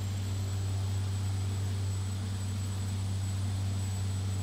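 Steady, continuous drone of a King Air twin turboprop in the X-Plane 11 flight simulator, with a constant low hum and a faint high whine, heard alone without speech.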